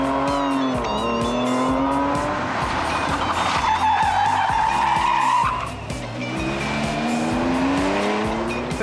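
Classic rally cars in the Classic Adelaide 2006 event skid through a 180-degree right-hand hairpin, tires squealing at length as engines rev and drop, loud and close throughout.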